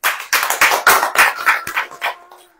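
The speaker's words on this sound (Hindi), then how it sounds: "अब ताली बजाइए" A church congregation clapping along, about a dozen loud, evenly spaced claps in a steady rhythm, ringing close and fading out at the end.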